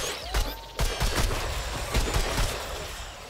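Gunfire from the video game Remnant 2 crackles in a rapid fusillade of sharp bursts, several loud cracks over a noisy, rumbling battle background.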